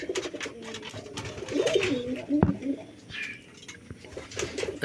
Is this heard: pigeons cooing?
yes